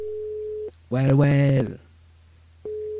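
Telephone line tones on a radio show as the host calls a listener: a steady tone cuts off, a brief word is spoken over a burst of line noise, then silence, and the steady tone returns.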